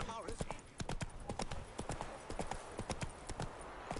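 A horse's hooves clip-clop at a steady trotting rhythm in The Witcher 3 video game, fairly close and distinct, with a brief whinny at the start and speech faintly in the background.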